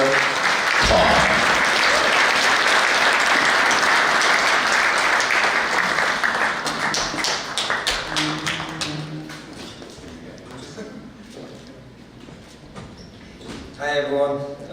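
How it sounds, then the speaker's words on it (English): Loud, dense applause from a large crowd greeting boxing champion Amir Khan fills the first several seconds, then thins into scattered clapping as a voice begins speaking over it. "give a round of applause for boxing champion Amir Khan."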